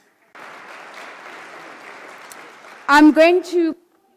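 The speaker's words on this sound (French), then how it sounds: "Donc je vous demande de l'applaudir." A conference audience applauds through most of the clip, then a speaker's voice follows.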